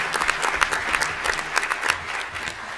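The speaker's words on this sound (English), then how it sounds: "one round of applause for our servers and everybody that helped out here today" Audience at Denver's 2016 Public Safety Luncheon applauding, a steady dense patter of many hands clapping together at close range for about three seconds, with no talk over it.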